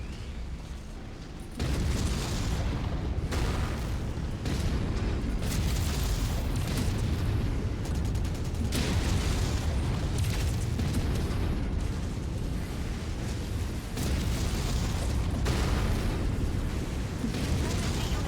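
Heavy explosions as a destroyed mech blows apart in the video game MechWarrior 5, a dense barrage of loud booms and bursts rumbling almost continuously, with several sharp blasts.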